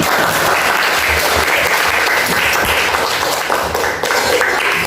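Classroom of students applauding a group after its presentation, steady dense clapping filling the whole stretch, loud and close with no talk over it.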